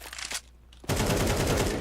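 Rapid automatic gunfire in a video game, a dense, loud burst of shots after a short pause, with a few scattered shots before it.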